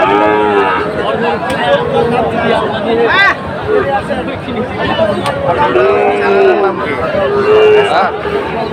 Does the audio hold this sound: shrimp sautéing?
no